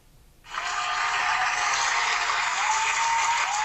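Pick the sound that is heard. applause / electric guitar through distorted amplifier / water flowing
applause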